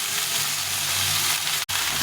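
Eggplant and pumpkin frying in a pan, a dense, even sizzle and crackle held steady and close throughout, broken once by a brief drop-out near the end, with no voices.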